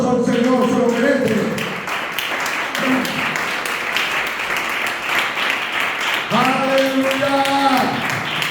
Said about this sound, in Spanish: Denle un aplauso al Señor, se lo merece.